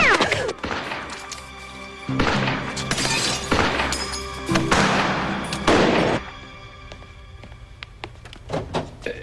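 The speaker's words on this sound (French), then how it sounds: "On essuie des coups de feu de l'intérieur du bâtiment." Gunfire coming from inside a building during an armed standoff in a thriller: several loud, sharp shots and impacts arrive in bursts over several seconds, with quieter stretches between them and a fainter crack near the end.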